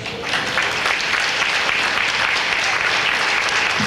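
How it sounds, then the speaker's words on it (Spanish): Sustained, loud applause from an audience for teacher Irma after her talk on mathematical knowledge, a dense wash of clapping that holds steady for about four seconds with no voices over it. "Un fuerte aplauso, que se escuche el aplauso para la maestra Irma"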